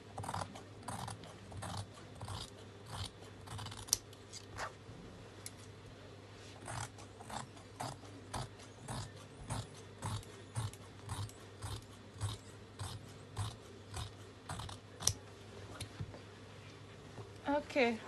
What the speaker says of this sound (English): I'm going to cut it open